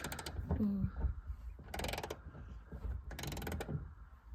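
Ratchet cranking a bolt down on a car, with two short runs of quick metallic clicking separated by pauses and low handling thumps and shuffling, close by and moderately quiet.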